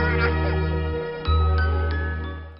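A phone rings with a bright, tinkling jingle, a few short chime strikes over a steady low drone in an indoor scene.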